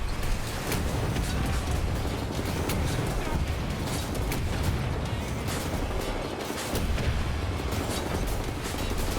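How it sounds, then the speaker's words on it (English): Rocket launcher explosions in the shooter game Wolfenstein: The New Order pound in a dense, relentless wall of booms and blasts, loud and continuous, with occasional shouts mixed into the chaos. "They have rocket launchers!"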